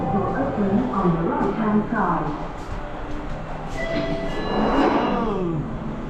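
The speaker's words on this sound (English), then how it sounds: "And we got a little subway" A subway train in Macau rumbles and rattles nearby with a steady roar, faint squeals and clatter, voices talking over the noise.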